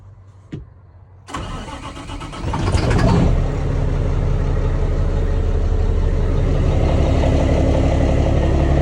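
Semi truck diesel engine cranks and catches after a brief click, then settles into a loud, steady idle close by while air pressure builds, with no talking.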